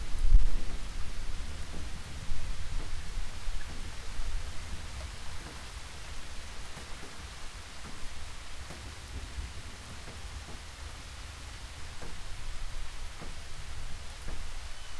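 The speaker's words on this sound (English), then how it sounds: "Rain is getting loud." Steady rain hisses throughout a VR horror game, Boogeyman, with low rumbling thunder underneath and a few scattered sharper drops; the wash of sound stays constant and fairly loud with no talking.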